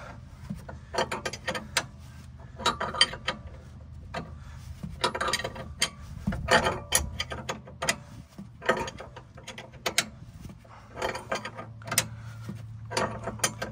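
Ratchet wrench working a body mount bolt on a 2004 Range Rover HSE L322 with a 4.4 L BMW engine, repeated bursts of close clicking ratchet strokes in an irregular rhythm, with some clanks between.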